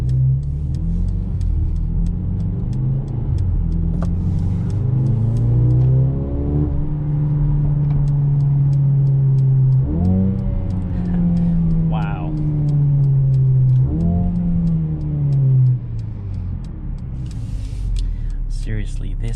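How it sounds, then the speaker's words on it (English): A 2021 Mercedes-Benz GLB 35 AMG's engine and exhaust drone from inside while driving, rising through the revs and dropping at gear shifts several times, steady and fairly loud. "Seriously, this thing just sounds so good."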